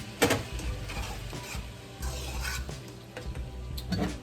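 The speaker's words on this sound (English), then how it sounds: "And now I'm going to add a jar of my pasta sauce." Jarred pasta sauce is added to a pan of already cooked food over medium-low heat while making spaghetti, bringing close stirring, scraping and utensil clatter over a soft sizzle, with no talking.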